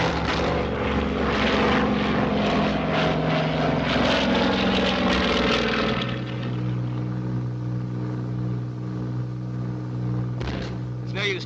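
A wartime bomber's propeller engines roar loudly and steadily through a steep dive, and the drone drops to a lower, steadier hum partway through as it limps on one engine.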